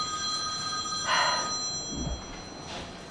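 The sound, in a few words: telephone ringing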